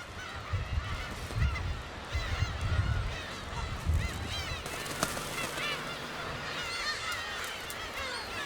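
A colony of about ten thousand black-tailed gulls on Dokdo island calls continuously, with many overlapping harsh, honking cries near and far and a few louder bursts standing out.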